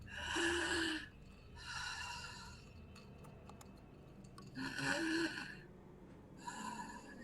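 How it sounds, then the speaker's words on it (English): Slow, heavy breathing comes over a crackly phone line, a few drawn-out breaths separated by quiet pauses, close and hissy. "it sounds like someone is breathing down the phone"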